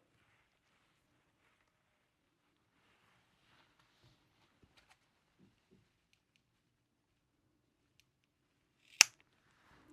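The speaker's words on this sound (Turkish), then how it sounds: "Şu ucundaki fazlalıkları da kesiyorum." Scissors snip off the excess ends of raffia rope on a handmade bag. After a long stretch of near silence comes a single sharp, close cut.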